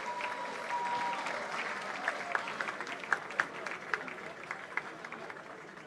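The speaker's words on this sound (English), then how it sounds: "I believe they deserve a bigger round of applause." Audience at a quiz competition award ceremony breaks into sustained applause, a dense steady wash of clapping with a few sharper individual claps standing out, loud and continuous throughout.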